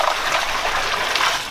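Water drains steadily from a home water heater into a bucket, a continuous close splashing gush with no pauses and no voices.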